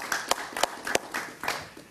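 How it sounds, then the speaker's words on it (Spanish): A studio audience claps to welcome a guest onto a Spanish-language political talk show, a short burst of scattered, uneven hand claps at moderate loudness with no talking over it. "Un aplauso para Francisco,"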